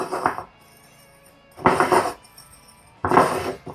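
A salt and pepper seasoning blend mixed and shaken in a container, three bursts of rattling, clinking grains separated by short pauses, close and fairly loud, with no talking.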